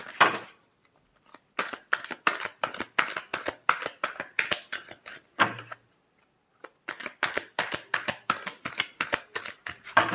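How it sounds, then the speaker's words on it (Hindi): Tarot cards being shuffled up close, a rapid run of crisp riffling flicks that breaks off briefly in the middle and then resumes, with no talk. "Last shuffle."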